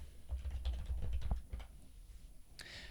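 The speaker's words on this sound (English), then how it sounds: "I'm going to type in Clean Force 1 and then Jacksonville" Quick, soft keystrokes on a computer keyboard patter in an irregular burst, close and quiet, with a brief louder clatter at the end.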